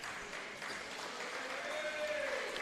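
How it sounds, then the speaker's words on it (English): Basketball spectators at a BigV men's championship game, Keysborough versus Wyndham, give a faint, distant round of applause for a player on the sideline, soft steady clapping in a gym with murmured voices. "Jamie Leclerc gets a welcoming clap for his efforts on the sideline."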